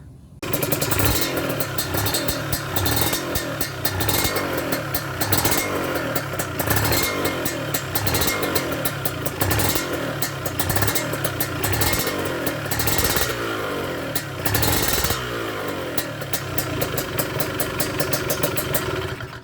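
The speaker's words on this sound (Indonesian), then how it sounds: "Itu biasa motornya kalau dihidupkan dia ada bunyi dengung. Bunyi dengungnya cukup keras, seperti di berikut ya suaranya." A Kawasaki Ninja 150 two-stroke motorcycle engine runs steadily and loud throughout, with a sustained primary-gear whining hum over the engine drone and occasional revving surges.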